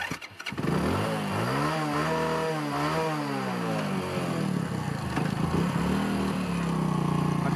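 A motorcycle engine running on gas fed straight into the carburetor, revving up and down in loud, close, wavering pulls that settle into a rough, steady idle.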